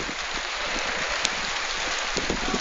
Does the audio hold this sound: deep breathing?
no